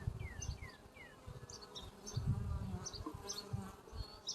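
Honey bees drone and buzz around an open hive during an inspection of propolis-glued frames, a soft, fluctuating hum close by, with faint bird chirps in the background.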